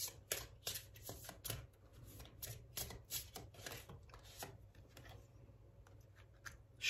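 Oracle cards being shuffled by hand in quick, crisp riffling bursts, close and fairly quiet, with short pauses between flurries and no talking.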